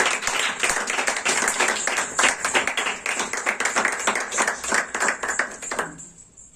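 Church congregation clapping loudly for the pastor, a dense rhythmic burst of many hands that carries on for several seconds before quickly dying away.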